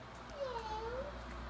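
A voice imitates a cat's meow, one drawn-out rising and falling cry over faint room noise.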